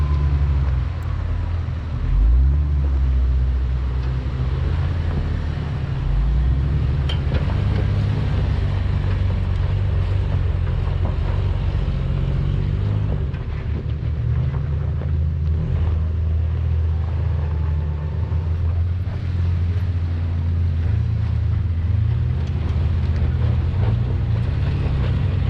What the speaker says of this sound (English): I took a minute to watch this Jeep take the other line